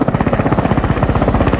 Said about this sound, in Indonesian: Joker dan Raptorman pun berangkat menggunakan helikopter